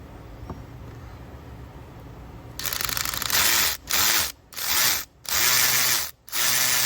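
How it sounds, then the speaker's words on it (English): An electric ratchet with a T25 Torx bit removes the fuel pressure sensor on a Volvo 3.2L engine, whirring loudly and close in several bursts separated by short pauses after a quiet start. "I have it on my electric ratchet, and we're gonna get this thing off real quick"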